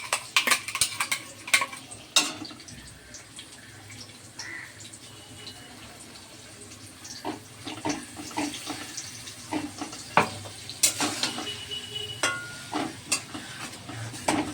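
New potatoes fry with ground spice paste in a pan, with a steady sizzle and frequent sharp scraping and tapping of a spatula stirring, close and fairly loud.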